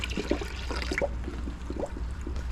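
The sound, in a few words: water being poured in to fill a coolant system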